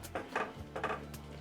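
A few soft scraping and clinking strokes of a spoon stirring a salted banana flower mixture in a pan, close by and fairly quiet.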